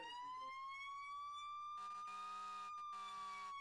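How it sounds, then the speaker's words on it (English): Electronic fire-engine emergency sirens in a firefighting video game wail steadily, a rising tone joined midway by a second layered siren, loud and continuous with brief dropouts. "Ooh, we got some fancy sirens."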